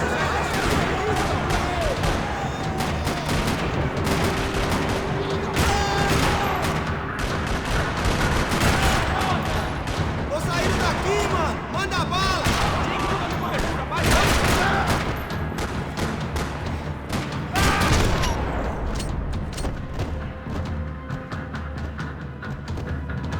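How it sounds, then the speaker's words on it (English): Sustained gunfire rattling through a parking lot in the video game Max Payne 3, dense bursts and booms filling the whole stretch with a steady loud roar, with speech heard over the shooting. "Another parking lot rattling with gunfire."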